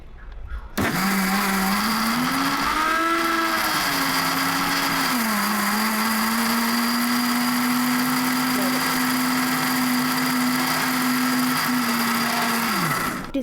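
A mixer grinder runs as a steady, loud whine for about twelve seconds, rising briefly in pitch near the start before settling into a constant hum, then cutting off at the end.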